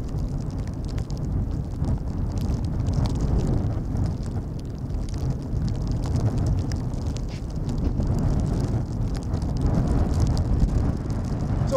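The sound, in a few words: strong gusty wind at Schiphol Airport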